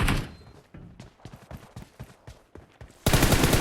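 Gun bursts from the video game PUBG, a rapid run of sharp close shots in uneven rhythm, fading between volleys, then a sudden dense loud roar of fire at the end.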